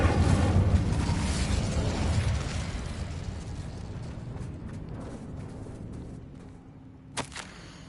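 Incendio fire spell cast in the video game Hogwarts Legacy, a loud sustained whooshing burst of flame that fades over several seconds, followed by a couple of short pops near the end.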